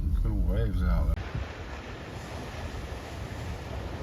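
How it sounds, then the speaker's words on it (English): Ocean waves break at a surf spot, a steady distant roar of surf mixed with wind buffeting the microphone, heard after a brief moment of someone talking. "Some good waves out there."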